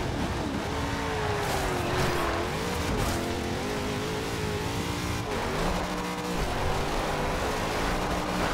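A 1957 Chevrolet Bel Air with a big front-mounted V8 in Forza Horizon 2, driven off-road through tight twisting corners, its engine droning and revving up and down steadily throughout, loud and close with hints of tire scrub.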